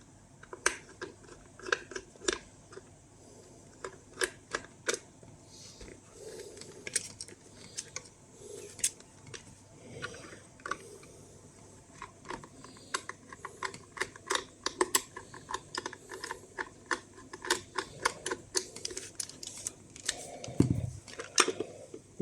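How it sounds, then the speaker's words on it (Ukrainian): A screwdriver unscrews screws from the housing of an SRP-88 dosimeter, making quiet, close, irregular clicks and ratcheting ticks in scattered bursts against a faint, hushed background. "Зараз відкручую їх."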